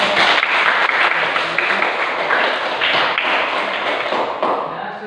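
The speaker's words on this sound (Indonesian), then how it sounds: "tepuk tangan dulu untuk kelompok" Classroom applause for a student group after their presentation, a moderately loud patter of many hands clapping steadily for about five seconds, tapering slightly at the end.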